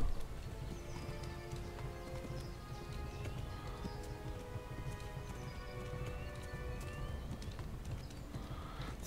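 Steady galloping hooves of a horse in the medieval game Kingdom Come: Deliverance drum on without pause for several seconds, close and moderately loud, mixed with soft ambient rustle and no voices.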